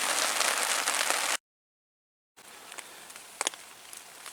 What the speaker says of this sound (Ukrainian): Зараз покажу який дощ іде. Бачите який дощ.